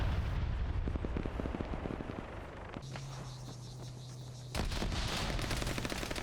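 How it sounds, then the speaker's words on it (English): A rocket launcher fires and destroys an approaching vehicle in the military game Arma 3: rapid percussive bursts, then a sustained low hum before a loud, wide explosion near the end. "heard this vehicle coming in, so good opportunity to take something out with the rocket launcher"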